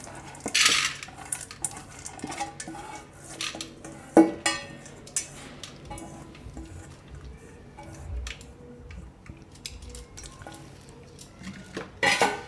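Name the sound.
washed dal being put into a pressure cooker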